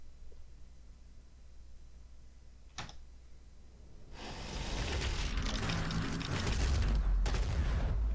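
Frag grenades exploding in the video game Doom Eternal, a sharp crack followed by a burst of loud blasts and crackling debris that swells and lingers, with no talking.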